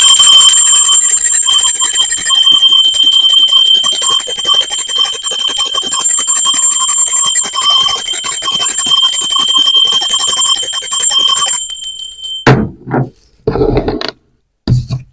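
A bell or alarm-type ringing sounds loud and continuous for about twelve seconds, with sustained high tones, then stops abruptly and leaves a few short scattered knocks and bumps.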